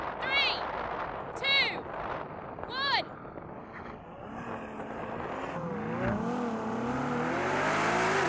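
A Ferrari Purosangue and a Lamborghini Urus Performante launch side by side in a drag race. Several sharp whooping bursts come first, then the engines rise into a loud, building roar as the cars accelerate away.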